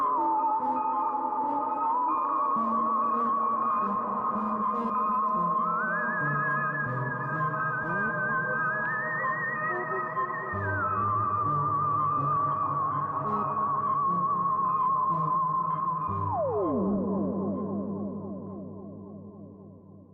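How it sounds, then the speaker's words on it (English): A theremin wails and slides freely between pitches over a droning backing, swooping up, wavering, then gliding sharply down; continuous and fairly loud. "That was someone playing a theremin."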